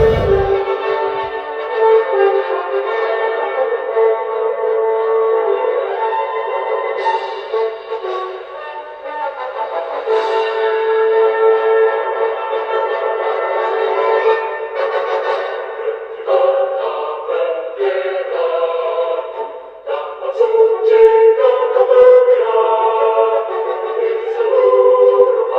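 A school bell audio file plays from bell-scheduling software as a loud, continuous, melodic chime with a thin, band-limited tone, heard alone for the whole stretch.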